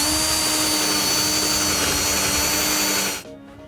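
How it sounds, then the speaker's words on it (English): A power drill whirs steadily at high speed, loud and close, drilling holes in an unclamped wooden pallet, then winds down and stops near the end. "just so I can show you how to drill this without having any clamps"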